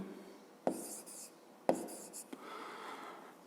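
Pen strokes on paper as numbers are written out by hand for long division in a fifth-grade math lesson, a few distinct quiet taps and scratches in a hushed room.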